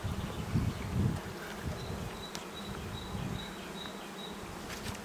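A steady, dense buzzing of many bees in a hive fills the clip, with a thin high whine above and a few soft low thumps near the start.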